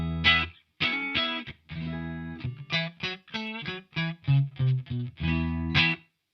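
Clean electric guitar notes and chords through a Klon Centaur kit pedal and Celestion V30 speakers ring out one after another with short pauses, bright and close, no talking.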